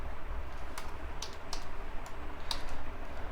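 Computer keyboard typing in a quick series of sharp clicks, close and clear over a faint background hiss.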